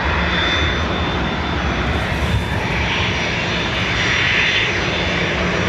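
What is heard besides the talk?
Ryanair jet airliner taking off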